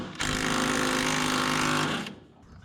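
An impact wrench hammers loudly at a bolt on the body of a 1967 Scout for about two seconds, then stops abruptly.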